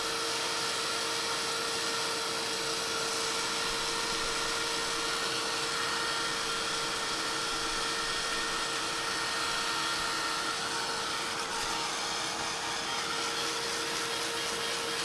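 A heat tool drying a layer of paint on a card gives a steady, continuous whirring blow, with one constant hum throughout and no talking.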